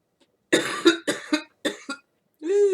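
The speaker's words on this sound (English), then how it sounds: "had a little coughing attack there" A quick run of several harsh coughs, close and loud, followed by a throaty vocal groan at the end.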